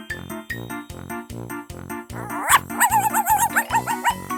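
Puppies bark in a rapid, regular series of close, high yips and bow-wows, which grow busier and more layered toward the end.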